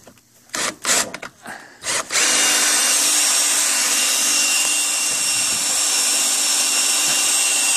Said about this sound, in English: I'm going to put the drill in here, and hopefully with one hand I'll try to cut it